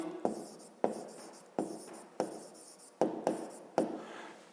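Pen writing on paper during a fifth-grade maths exercise, quick scratchy strokes in short bursts about every half second to second, close and fairly quiet, with no voice.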